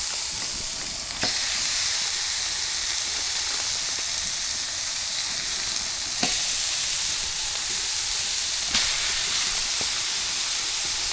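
Quarter-pound venison burger patties sizzle on a grill in a steady, close frying hiss that runs unbroken, with a few sharp clicks or pops along the way and no talk.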